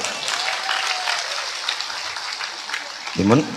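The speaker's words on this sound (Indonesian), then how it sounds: "Tepuk tangan untuk Anda." An audience at a lively Indonesian Islamic sermon breaks into steady applause, a dense crackle of clapping that runs throughout, with a brief voice rising out of it near the end.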